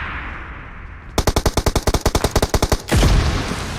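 A fast machine-gun burst of about twenty evenly spaced shots in a video game, loud and close, followed by a heavy rushing blast.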